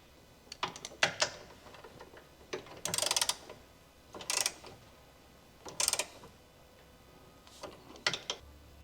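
A telescoping ratcheting wrench with a 12mm short socket tightens the fixing screw of a height position sensor bracket on a 2021 Honda Civic, giving several short bursts of quick, close clicking separated by pauses.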